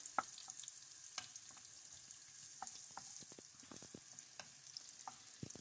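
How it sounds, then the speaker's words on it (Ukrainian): Garlic and onion sizzle steadily in a frying pan while a spoon stirs them, with repeated scraping clicks and taps over the continuous frying hiss. No one speaks. "Тепер кидаємо цибулю. Це я мішаю."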